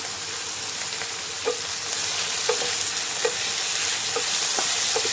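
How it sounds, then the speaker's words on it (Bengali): Raw tomatoes fry with salt in a pan, giving a steady close sizzle broken by a few soft stirring scrapes at irregular intervals, with no voices. "নুন দিয়ে ভালো করে টমেটোটা ভেজে নেব"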